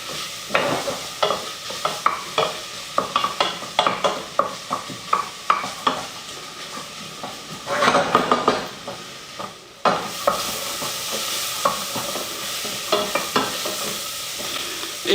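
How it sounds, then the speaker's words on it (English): Bacon and onions sizzle in a pot for corn and bacon chowder while a utensil repeatedly scrapes the bottom, giving a steady run of close, rhythmic scraping strokes over the frying, with a brief pause before the sizzling continues. "you'll notice I'm scraping the bottom line because all that flavor, that's basically just a flavor bomb"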